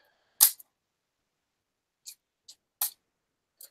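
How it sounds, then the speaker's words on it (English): A deck of game cards for the Commands & Colors: Ancients board game, with its discards, is shuffled in a few short, crisp bursts of riffling and snapping, separated by pauses. "So I've now got to shuffle the deck and everything."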